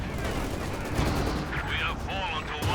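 Anti-tank gunfire in Company of Heroes 2, a battle scene with several sharp shots and rumbling impacts piling over busy game noise, moderately loud.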